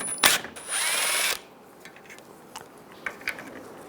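A power tool with a 10mm socket spins a bolt out during radiator replacement on a 2011-2018 Ram 1500: a sharp burst, then about half a second of whirring, followed by faint clinks and handling sounds.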